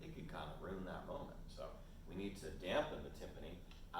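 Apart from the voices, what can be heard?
No everyday noise stands out behind the speech.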